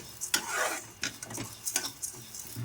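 Toor dal roasting in a pan over low heat, stirred with a spoon: a dry scraping and rattling of grains in a few brief strokes, with a faint sizzle underneath, close and fairly quiet.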